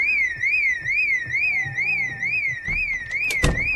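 A car alarm in Project Zomboid wails in a steady, rapidly warbling siren tone, loud and continuous, with a thud and clatter near the end.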